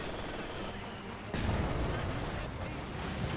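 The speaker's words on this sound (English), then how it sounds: "Incendiary barrage getting called in on top of the house and everything up north" Incendiary artillery barrage in Company of Heroes 2 crashing down in a dense, rumbling wash of explosions that swells louder after a brief lull and keeps rolling steadily.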